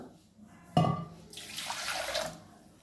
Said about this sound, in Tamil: ஒரு கப் அரிசி எடுத்து நல்லா ஒரு நாலஞ்சு தடவை கழுவிட்டு அதில் வந்து ஒரு கப்புக்கு ரெண்டு கப்பு தண்ணி விட்டுக்கலாம்